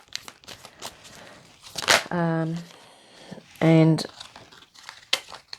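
A deck of tarot cards is shuffled quickly, giving rapid papery riffles and crinkly flicks with two short spoken sounds in between.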